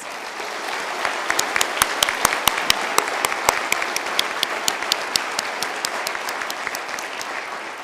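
A large audience at a University of Galway conferring ceremony applauds steadily for several seconds, a dense wash of clapping with a few sharper individual claps standing out near the front.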